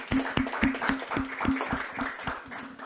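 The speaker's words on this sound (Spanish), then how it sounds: "Un aplauso para Luz, por favor." A small audience claps after a science talk, a sparse, rhythmic patter of distinct hand claps with a few hands in step and a faint hum beneath, fading slightly toward the end.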